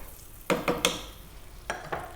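A spoon stirs a sticky pork rib sauce in a pan with a handful of quick scraping strokes: three close together, a pause, then two more, over a faint sizzle.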